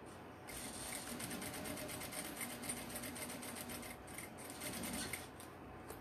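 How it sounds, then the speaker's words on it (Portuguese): A sewing machine stitches a cloth hygiene kit, humming steadily with a fast rattling needle rhythm for about five seconds, close by and with no talking. "já venho, já vou costurando o lado de cá"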